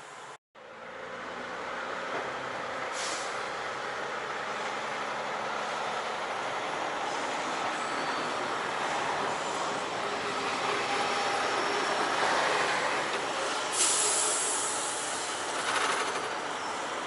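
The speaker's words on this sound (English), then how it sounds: "another ALP 46 pulls a passenger train" Amtrak ALP-46 electric locomotive hauling a passenger train across a bridge along the Delaware River, a steady broad rumble and rush of the passing train that holds loud throughout, with faint brief squeals near the end.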